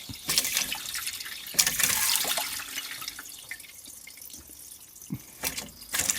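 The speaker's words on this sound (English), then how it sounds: "No, Jeffrey, water is not meant to be coming out of there" Water leaking from a car engine trickles and splashes in irregular spurts close by, with intermittent gushes and drips against a quiet background.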